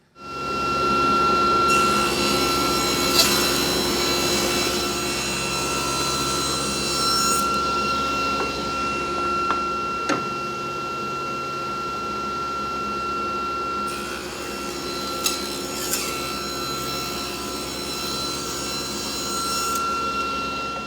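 A table saw rips thin walnut strips with a ThinRip guide in a woodshop, a steady close whine with a sustained cutting rasp and brief knocks from the wood, with no talking.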